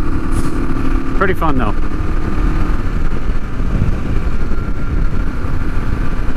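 A vintage Honda motorcycle engine drones loud and steady while riding, under heavy wind rush, with someone talking briefly over it.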